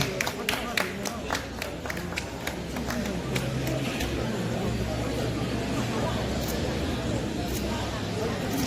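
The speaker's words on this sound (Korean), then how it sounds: "큰 박수 부탁드리겠습니다" Applause from a crowd at a 2019 franchise business expo after an MOU signing between Lookemi and a US partner, dense steady clapping for several seconds with a low hum of crowd noise beneath.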